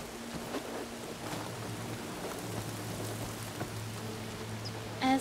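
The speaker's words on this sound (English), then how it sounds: "Rain's really coming down." Heavy rain pours steadily in the video game Horizon Forbidden West, a dense constant hiss with a low rumbling drone underneath and a few faint thumps, ending with a short louder swell.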